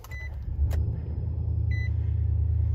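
A 2021 Nissan Titan pickup truck starts up from inside the cab, with a short cranking burst followed by a steady, low engine idle rumble and a couple of faint chimes from the dash, with no voices.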